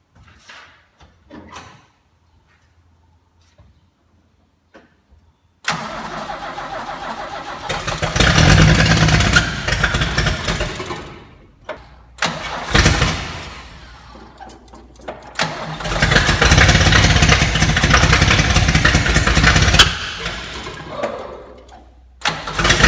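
VG Valiant ute engine cranks and fires after premium fuel is poured into the tank and bowl, catching in two loud bursts of rough running separated by a brief stall, after a quiet stretch of small clicks.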